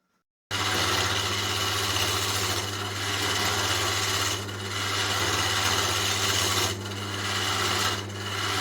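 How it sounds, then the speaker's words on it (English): Steady, loud scraping and rasping of a wooden workpiece being turned down at its bottom end on a lathe, with the motor's low hum running continuously underneath; the cutting tone swells and eases in a few passes, with no talk. "turned the piece around in the lathe now because I want to turn this end down"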